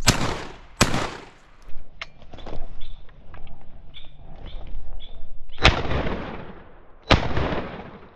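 Shotgun blasts ring out during quail hunting in Arizona desert country: four sharp, loud reports spread over several seconds, with faint bird calls and rustling between them.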